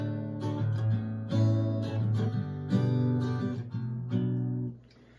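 Acoustic guitar strumming full chords in a steady rhythm, bright and close, fading out at the end.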